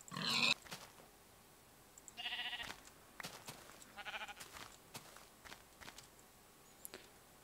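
Sheep bleating in the Minecraft video game, several short, loud bleats spaced over a few seconds, mixed with soft footsteps and light clicks, close by with no talk.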